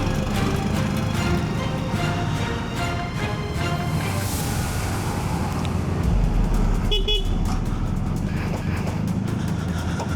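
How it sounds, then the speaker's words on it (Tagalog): A short, high-pitched horn from a Zontes 400G motorcycle toots briefly amid steady engine and traffic rumble close by. "Yung busina natin ang cute eh. Tutut. Parang beeper lang."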